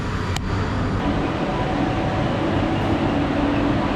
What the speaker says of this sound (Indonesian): Oke, ini adalah kereta api Malaysia KLIA.